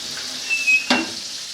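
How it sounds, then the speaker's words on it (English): Close, steady sizzling of chicken frying on a grill, a bright hiss with a brief louder crackle midway. "we're going to keep the chicken frying here for probably about 3 minutes or so"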